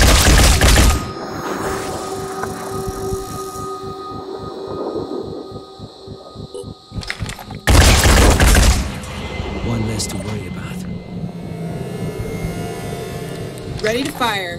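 Gunfire in the video game Phoenix Point, a loud burst of shots near the start and another heavy blast midway, with rapid mechanical rattling between, and a voice talking in places.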